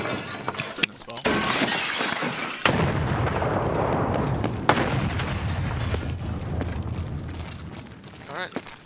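A grenade blast in Escape from Tarkov, a sudden booming burst with shattering debris, followed by a long rumbling tail and scattered sharp cracks like gunfire, with people talking over it.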